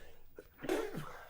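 One sharp, close sneeze with a short inhale before it, loud and abrupt, then fading quickly.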